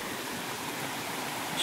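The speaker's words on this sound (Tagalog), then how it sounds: "malakas yung agos ng tubig" A strong stream, swollen after heavy rain, rushes with a steady broadband roar throughout, close and fairly loud, with no talking over it.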